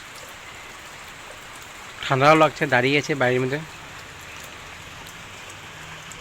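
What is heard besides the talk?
rain falling outdoors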